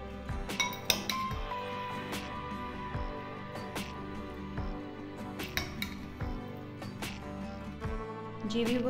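A spoon clinks and scrapes against a bowl while a chickpea and apple salad is mixed, with steady ringing metallic taps and knocks close up, no talking.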